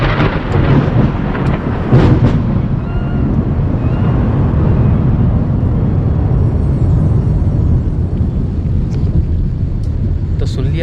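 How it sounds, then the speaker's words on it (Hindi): Deep, rolling thunder rumbles loud and close through heavy rain at night in the hills, a sustained low roar with a strong crack near the start, over a constant wash of downpour. "बिजली के चमकने के बाद जो आवाज़ आती है ना"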